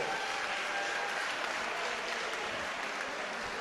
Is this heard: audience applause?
yes